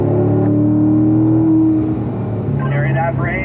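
A car driven hard around a race track, its engine holding a steady high drone before the pitch shifts as it keeps pace, loud and close throughout.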